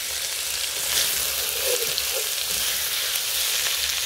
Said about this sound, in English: It's literally just stir frying.